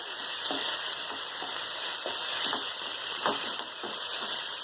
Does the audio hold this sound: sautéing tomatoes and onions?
yes